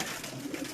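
Pigeons coo softly in a brief burst, a few low rounded calls close by; the birds are pure Rampuri and Teddy breeds kept by a fancier.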